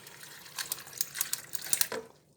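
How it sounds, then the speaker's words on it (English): Water pours into a blender for a green smoothie, a steady, soft trickling splash with small bright spatters, fading out at the end. "So I'm going to pour about a cup in right now."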